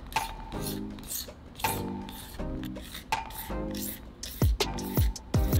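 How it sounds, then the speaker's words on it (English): A razor blade scrapes a burr off a sunglasses lens in rasping strokes, four slower passes followed by several quick, sharp scrapes near the end. "I quickly knocked it down using a razor blade."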